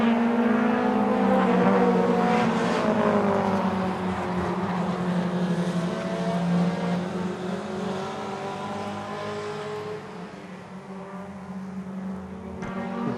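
Race cars circle a short oval track, their engines droning loud and close with a rising and falling pitch as they pass and accelerate out of the turns, sustained throughout.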